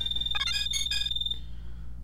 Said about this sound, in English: that is my phone ringing.